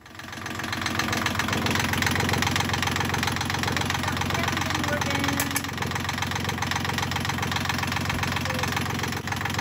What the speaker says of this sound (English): that allowed us then to get the engine started